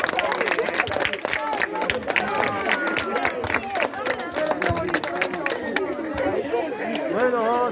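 Scattered clapping at the inauguration of a school cosmetology and barbering workshop, with sharp claps running throughout beneath steady crowd chatter and voices.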